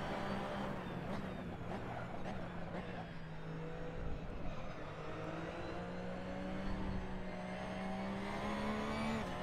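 A race car engine in Assetto Corsa on PS4 at the Barcelona circuit, droning steadily and building speed with a rising tone, fairly faint, with no talking.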